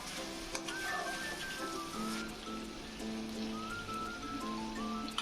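A tomato, onion and green chili paste fries in a pan, giving a continuous, quiet sizzle and crackle that holds steady throughout, with faint tonal background music and no talk.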